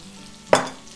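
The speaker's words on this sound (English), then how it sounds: "And we'll just give this a stir." A single stir of food in a pan over a quiet background sizzle, one short scraping clatter close by, then the sizzle fading back.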